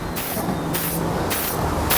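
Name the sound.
spraying canola oil on grill grates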